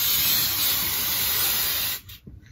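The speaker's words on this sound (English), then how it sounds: "So I'm gonna be spraying my hair green, and then I'm gonna do red spots." Aerosol hair colour spray hisses steadily onto hair as green colour goes on, a close, continuous broadband spray lasting about two seconds before cutting off abruptly into near silence.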